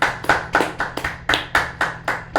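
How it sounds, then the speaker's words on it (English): A single person claps rhythmically during a livestream, about nine sharp, evenly spaced hand claps in quick succession, close and distinct, with no voices over them. "A Round of virtual applause round for of applause."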